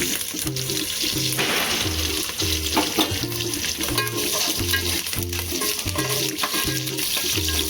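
Mustard seeds, curry leaves and garlic crackle and sizzle in about three large spoonfuls of hot oil for Diwali chivda, a continuous close frying hiss with spattering pops and a rhythmic low background hum, no voices.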